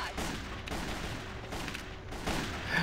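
M700 sniper rifle shots in the online shooter CrossFire, a few sharp game gunfire bursts heard fairly faintly over a constant background of in-game noise.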